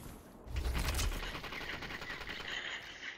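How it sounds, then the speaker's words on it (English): Several players shooting at once in the Pop1 virtual reality shooter, steady overlapping rapid gunfire that swells early and continues throughout, close and dense, with no talk. "Multiple guys shooting."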